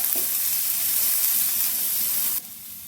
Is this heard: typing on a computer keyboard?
no